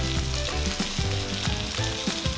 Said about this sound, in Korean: 이제 지글지글 익어가죠.